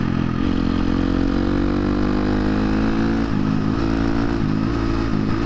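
A 2023 KTM 250 XC-F dirt bike ridden on the street runs through its gears with the clutch, its loud, close engine note climbing and dropping at each shift.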